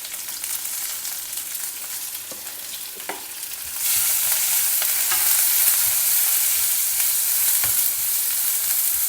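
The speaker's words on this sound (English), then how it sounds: "Saute the onions." Sliced onions, green chilies, ginger and curry leaves sauté in a pan, a steady sizzle that jumps louder and brighter partway through, with occasional scraping stirs and no talking.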